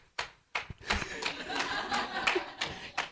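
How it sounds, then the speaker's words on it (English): Scattered audience clapping at a JCI Michigan awards event, a few separate bursts of hands from a crowd rather than sustained applause, with some murmuring and light chuckles in between. "Now I need everyone that was a chapter president to clap."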